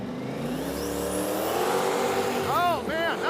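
Race car revving and launching hard off the start line at a drag strip, engine roaring loud and close with rising pitch, while a person talks over it.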